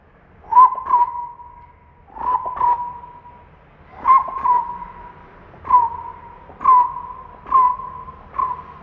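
A mimicry artist whistles a bird-like call: clear, close double-note whistles repeat in an even rhythm about eight times, with no other sound around them.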